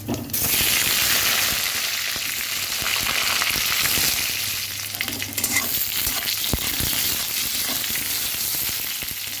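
Eggplant fries in hot oil in a kadai with nigella seeds, for a hilsa fish mustard curry; a loud, steady, close hiss and crackle runs throughout, with faint stirring clicks and no voices.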